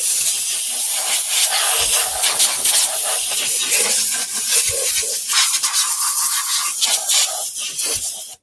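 Compressed air blasts dust off a vintage sewing machine, a steady close hissing rush that holds for about eight seconds with slight flutters and no talking.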